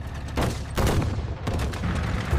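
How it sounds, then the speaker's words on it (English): Guns fire repeated rounds at a heavy Soviet tank, sounding as a dense, loud burst of gunfire that rolls into sustained rumbling booms without pause. "The guns opened fire, striking the heavy tank with repeated rounds."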